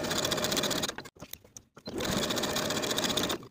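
A sewing machine stitches the shoulder seams of a blouse at a 5/8 inch seam allowance, whirring rapidly and loudly up close in two runs broken by a short stop in the middle.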